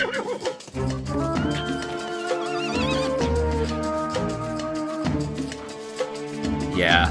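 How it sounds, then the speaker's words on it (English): A horse in The Legend of Zelda: Breath of the Wild, ridden in a desert, lets out a whinny over the game's steady tonal music, with a brief bright cry near the end of the short passage. "the horse just whinnies and disappears"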